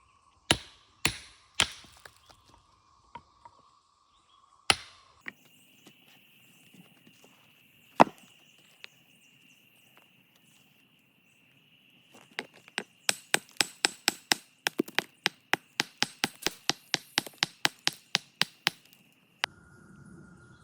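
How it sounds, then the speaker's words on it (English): A hand tool taps out leftover stone nodules between split grooves in a quarried rock. Sharp, close, ringing strikes come singly at first, then in a fast rapid run, with a steady tonal hum between them and no talking. "Here I'm just tapping out some of the nodules of stone that remain between the grooves where the rock broke."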